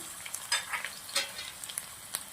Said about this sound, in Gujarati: આદું મરચાં લસણ વાટી નાખ્યું હતું એ આપણે ચમચી નાખીશું